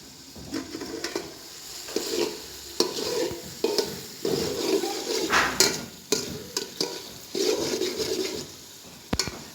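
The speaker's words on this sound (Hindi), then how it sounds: "अभी ये भून जाए।" Chicken curry frying and being stirred in a pan while cooking village-style chicken with tinda, with repeated scraping stir strokes over a steady sizzle, close and moderately loud, no talking.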